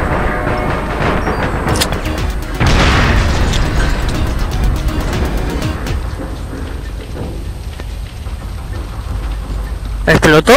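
Explosions and bursts from the online shooter game APB Reloaded, with loud booming blasts and sharp crackling pops over steady rumbling action, while players talk throughout.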